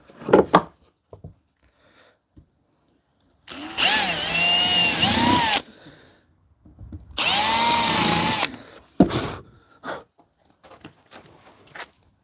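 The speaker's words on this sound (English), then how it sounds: "Just going to get this as a guide. Drill 2 holes here also." A power drill whirs into wood twice, each burst about two seconds long with rising motor pitch, separated by quiet handling and clunks.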